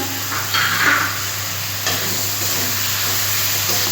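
Small fish frying and being stirred in a pan with coriander and cumin powder, a steady close sizzle with a few scraping stir sounds and no voices.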